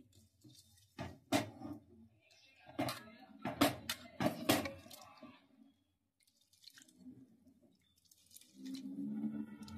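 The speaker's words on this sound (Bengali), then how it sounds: "এভাবে একটু চটকে চটকে ধুয়ে নিচ্ছি" Daliya (broken wheat) and lentils being kneaded and washed by hand in a bowl of water, with wet squelching, splashing and dripping in uneven bursts close by, then a softer stretch of sloshing.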